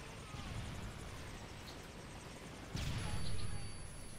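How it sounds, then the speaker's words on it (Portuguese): Distant helicopter rotor drone in a Call of Duty Modern Warfare 3 multiplayer match, a faint steady whir with a louder swell near the end among game sounds, with a player talking. "Esse helicóptero aí tá matando geral."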